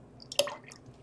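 A small splash of Dharma Brilliant Yellow dye stock solution, a brief liquid spatter with a few droplet ticks, quiet and close, with no talking.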